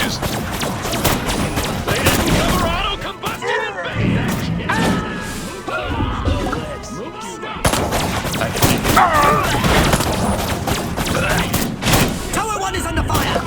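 Gunfire and explosions ring out in a battle in the Destroy All Humans! 2020 remake game, with dense rapid shots, crashes and thuds throughout and voices shouting amid the chaos.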